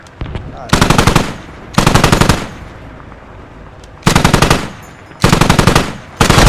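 Machine gun fire in the tactical shooter game Squad, heard as four loud sustained bursts of rapid automatic shots separated by short pauses, with a faint voice in the background.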